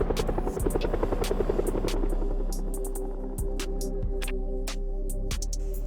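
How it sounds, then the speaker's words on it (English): Helicopter flying over during the helicopter event in Project Zomboid, a loud throbbing rotor buzz that pulses rapidly at first, then settles into a steady hum with intermittent sharp clicks, and no talk. "we do end up getting the helicopter event in the comfort of our own home"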